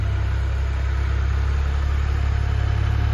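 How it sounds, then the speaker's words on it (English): A tractor approaching on a rural off-grid property in northern Portugal for a wood delivery, its engine a steady low rumble that holds close and even throughout, with no talking. "I think I can hear the tractor coming."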